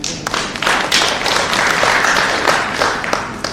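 A conference audience applauds after a poster presentation at an agri-nutrition conference, a dense, fairly close patter of many hands with a few sharper individual claps, swelling and then easing slightly toward the end.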